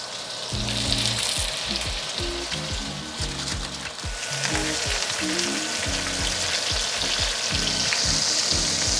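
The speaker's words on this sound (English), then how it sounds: "add another tablespoon of butter, and now we are going in with our salmon. We're gonna start skin side down." Salmon fillets frying skin side down in butter in a pan give off a loud, steady sizzle and crackle, with low bubbling pops underneath throughout.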